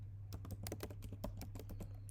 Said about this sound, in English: now let's start typing the names as well as the password